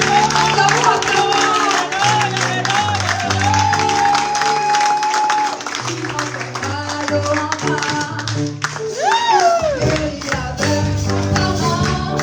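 A church congregation at a Sunday service claps and cheers, crowd noise running steadily beneath loud music with sustained tones and shifting bass notes, and a voice rising briefly above it near the end.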